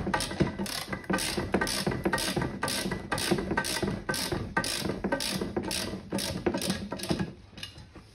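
A socket wrench ratchets steadily while tightening nuts on a Berg steel XL ride-on trailer, giving a loud, close, evenly paced run of clicking strokes that stops near the end.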